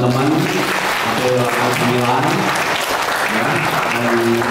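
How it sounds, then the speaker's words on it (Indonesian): Loud, dense applause from a crowd at an alumni visit to a school in Bagansiapiapi, sustained throughout, with voices talking over it. "Tepuk tangan untuk teman-teman APW"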